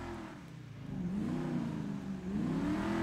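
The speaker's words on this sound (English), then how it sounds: "This thing does have quite a throaty engine sound." Enus Paragon S sports car in GTA Online, fitted with full race transmission, competition suspension and turbo tuning, revving its throaty engine in rising and falling pulls, close and steady for about three seconds with no talk.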